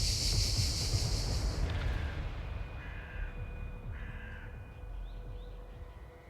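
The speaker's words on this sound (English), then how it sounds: "The sound of the bird chirping gently woke me up." A crow caws repeatedly in a morning forest, harsh calls standing out over a loud rushing wind or water wash that fades after the first seconds, with thin, faint bird notes following.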